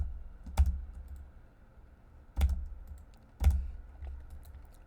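Computer keyboard in use in AutoCAD: three separate key presses, shift and spacebar, each a sharp close click with a low thump, spaced about a second apart over quiet room tone.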